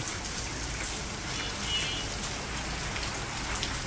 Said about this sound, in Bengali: বৃষ্টি কমে বাড়ে